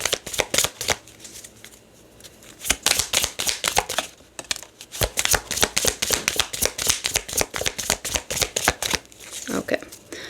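Tarot or oracle cards shuffled close up in quick, crisp riffling bursts, repeated steadily for about ten seconds with brief pauses between handfuls.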